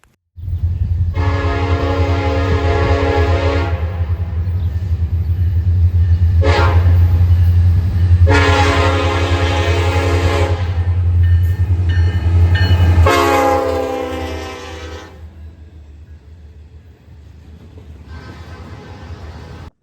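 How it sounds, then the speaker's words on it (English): An NS freight train led by an ST70M-2 locomotive rumbles past loudly and nearby, with a deep engine drone under several long horn blasts, the last one sounding after the engine noise fades. "we see a NS train which has one of NS's ST70M-2s"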